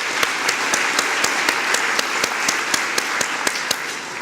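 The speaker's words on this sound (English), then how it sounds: "Round of applause." Loud, continuous applause fills a civic hall during a mayor's mobility speech as guests are recognized, with sharp claps standing out in a steady, evenly spaced pulse over the dense clatter.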